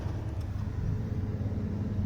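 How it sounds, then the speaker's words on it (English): A 5-speed manual 4WD squarebody Chevrolet Suburban with an NV4500 gearbox drives along, giving a steady low engine rumble and road noise at moderate level throughout. "Pretty cool driving a 5-speed Suburban."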